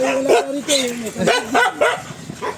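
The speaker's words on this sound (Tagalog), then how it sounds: "Nakakatakot naman yung aso niyan." A big dog barks several times in quick succession, close and fairly loud, with people talking over and between the barks.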